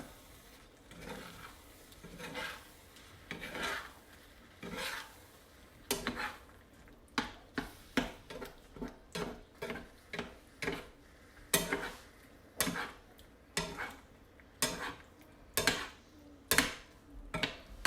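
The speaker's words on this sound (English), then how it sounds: "using the back of my spatula again to scoop from the bottom and mix to the top" Spatula scraping and mixing lasagna filling in a pan on a low burner, a run of soft irregular clicks and scrapes against the pan, moderately close and fairly quiet.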